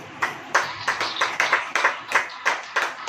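A church congregation claps hands together in a slow, regular rhythm, about a dozen sharp unison claps with short gaps between them, clear and moderately loud, with no talking.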